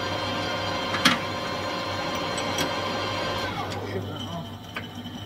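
A metal lathe runs with its lead screw engaged as if thread cutting, during custom motorcycle fabrication work: a steady mechanical hum with a whining tone that winds down near the end, with a few sharp clicks.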